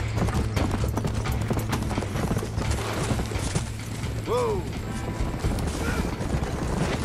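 Horse galloping in Red Dead Redemption, a rapid, steady clip-clop of hooves with creaking tack and a short whinny partway through, running continuously under game ambience.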